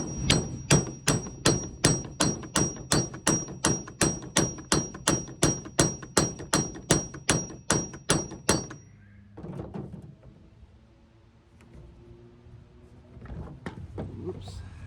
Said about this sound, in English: I can get a little bit better leverage on this hammer